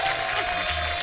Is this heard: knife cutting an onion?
no